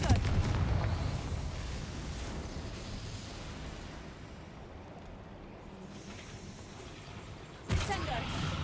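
A Confringo spell explodes in the Hogwarts Legacy video game: a booming blast opens, a low rumble fades away after it, and a second sharp burst lands near the end.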